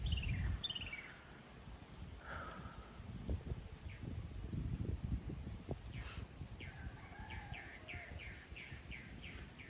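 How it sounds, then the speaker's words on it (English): Birds chirp and call on Texas land just after rain, repeated short tweets and trills at a moderate distance over rustling wind and leaves. "Are the birds just happy that they just got some rain and a little bit of coolness?"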